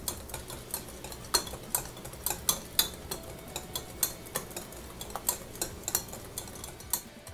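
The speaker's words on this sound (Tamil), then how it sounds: "இப்போ இதை வந்து நல்லா இன்னும் கொஞ்சம் நேரம் பீட் பண்ணிக்க போகிறேன்" A spoon beats saffron butter cookie dough in a bowl, giving soft, steady scraping and tapping strokes at a brisk, even rhythm, close and fairly quiet.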